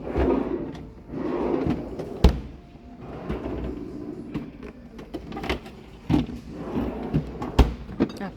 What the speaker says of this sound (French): pour le congèle, il y a 2 tiroirs.